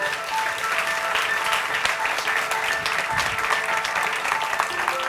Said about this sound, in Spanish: Me gustaría que les recibiéramos a todos con un fuertísimo aplauso.